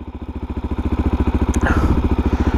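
A 400 motorcycle engine fitted with a CRD exhaust idles loud and close with a heavy, regular thumping pulse that quickens slightly as it is revved, plus a brief metallic clink midway.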